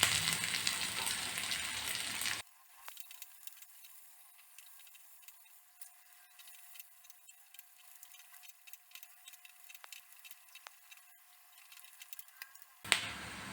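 Crushed garlic, chopped onion and curry leaves frying in hot oil for brinjal bajji, a steady close sizzle with scattered pops and crackles, preceded by a brief louder burst and no talk.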